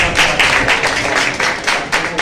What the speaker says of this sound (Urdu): زوردار تالیاں سے